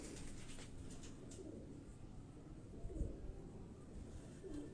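Large-bodied pigeons coo softly and continuously in a quiet enclosure, low murmuring calls blending into a steady background hum with a few slightly louder coos.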